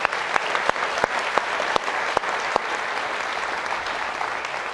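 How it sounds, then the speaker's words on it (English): An audience at a Georgetown Law School event gives a round of applause, a fairly loud, even wash of clapping from a crowd with a few sharper individual claps standing out near the start, with no voices over it. "Round of applause for Jane, please."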